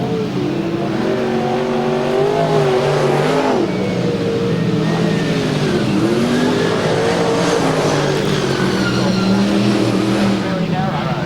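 V8 dirt modified race cars on a narrow speedway track at a 1999 classic speedway event, engines roaring loudly and continuously with rising and falling pitch as the cars pass, under faint commentator talk.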